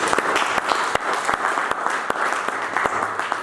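A church congregation clapping together during a worship service, a steady stream of sharp hand claps in loose rhythm, close and lively, with faint voices underneath.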